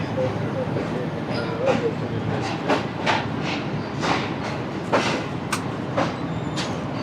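Pakistan's Shalimar Express rolls through an empty food-stall junction, with a steady rumble of carriages and repeated wheel clacks passing close by, while someone talks over the noise.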